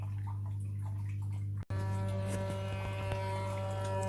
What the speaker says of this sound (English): you can see the motor is turning, but it's almost too fast